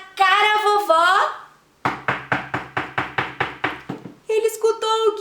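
Knocking on a door in a told children's story: about ten evenly spaced knocks in a quick, regular series, with a voice talking just before and after them.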